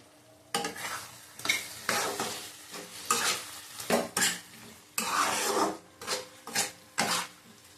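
A salted curry stirred in a pan: a series of scraping, rasping spoon strokes against metal, close and fairly loud, arriving in irregular bursts roughly every half second to a second, with no voices.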